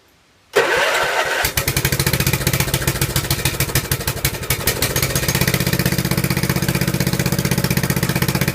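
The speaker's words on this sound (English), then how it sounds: "So this is the BCS walk behind tractor." A BCS walk-behind tractor with a tiller attachment is pull-started after a brief silence, its small engine catching at once and settling into a loud, steady, rapid idle that continues to the end, with no talk.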